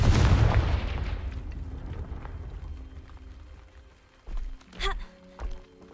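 A fiery Confringo spell blast from the game Hogwarts Legacy bursts loud at the start and rumbles away, followed by a few lighter thuds and clinks.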